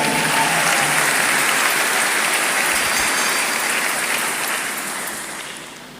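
Congregation applauding in a church, a dense steady wash of clapping that holds loud and then gradually fades toward the end, with no talk over it.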